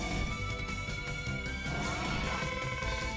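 A boss shatters into pieces in the Mega Man X4 video game, a brief crashing burst over continuous game music and effects.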